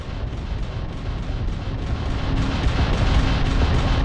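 A homing missile fires at an enemy ship in the space-combat game Starfield, a steady low rumbling roar of weapon fire and engine noise that swells slightly louder toward the end, with no talk.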